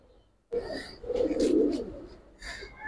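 Female pigeons of fancy breeds such as Giribaz and khaki kaldam cooing close by, a low throaty burbling coo rising after a moment of quiet and rolling on for over a second, then a second coo starting.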